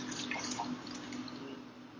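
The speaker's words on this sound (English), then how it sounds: "I am going to pour all this into a pan" Liquid is poured into a pan in a home kitchen, a soft continuous trickle with light splashing over a steady low hum, fairly faint and unbroken.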